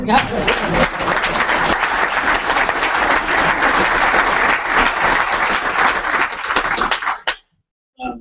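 Debate audience applauding at an attorney general debate, a dense, steady wash of clapping that holds for about seven seconds before cutting off abruptly, followed by a brief pause and a faint fragment of sound at the end.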